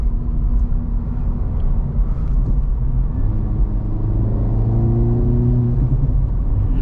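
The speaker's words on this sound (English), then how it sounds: "little burbles there on the exhaust" Low engine rumble from a car driven on the road, either a 2024 Acura Integra Type S or a 2023 Honda Civic Type R, with a rising exhaust drone, steady and moderately loud.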